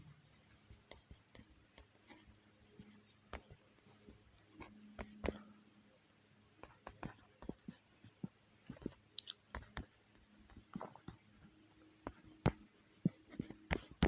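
Handwriting with pen on paper, close-up: irregular short scratches and taps in bursts with brief pauses, fairly quiet against a hushed room.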